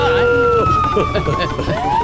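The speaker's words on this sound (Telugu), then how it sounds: "పోలీస్ సైరన్ వినగానే" A loud police siren wails, its pitch sliding up and down. Voices talk over it.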